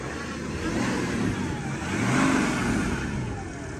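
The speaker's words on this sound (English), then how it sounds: "So it sounds like a diesel." A BMW E91 330d diesel engine, stage 1 remapped, idles steadily with a low, rough diesel rumble, swelling slightly midway, close by with no talk.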